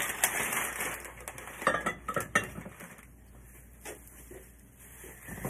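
Square, clear vintage Pyrex glass dishes handled and set down, giving clinks and knocks in a busy clatter at first, then quieter scattered taps, close by with no talking.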